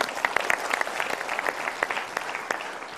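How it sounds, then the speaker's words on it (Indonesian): Seminar audience breaking into applause, a crackling spread of many claps with sharp individual hand strikes standing out, moderately loud and continuous throughout. "kita berikan tepuk tangan sekali lagi"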